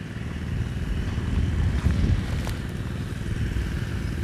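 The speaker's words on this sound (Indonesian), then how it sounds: "Ini Kembar lagi mengairi sawah, saudara, pakai mesin pompa air." Steady low drone of a small engine driving a water pump that irrigates a rice field in an Indonesian village, running continuously and fairly close with a slight swell midway and no talking.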